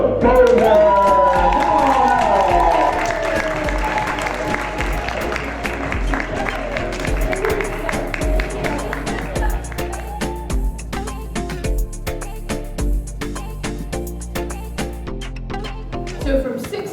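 Conference audience cheering and clapping for a vegan medical doctor as she is introduced, with a loud burst of whoops and applause at first that thins into scattered claps and crowd noise.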